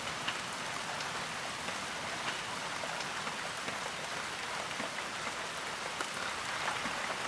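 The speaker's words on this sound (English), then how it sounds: "the rain was torrential for most of the day" Torrential rain hammers down near Capitol Reef National Park, a dense, steady hiss of drops on surfaces that stays loud and even throughout, with no voices.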